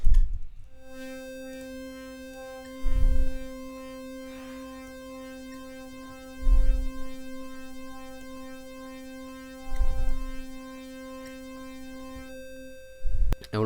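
Vital software synth playing a sustained bright harmonic tone whose filter is swept by a sine wave LFO, with a low thumping pulse recurring roughly every three and a half seconds beneath it.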